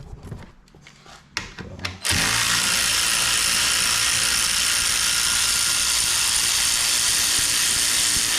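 A ratchet loosens fasteners on a Polaris RZR Turbo R. A couple of seconds of sparse, sharp mechanical clicks give way to a loud, continuous whirring grind that holds steady close by until the end.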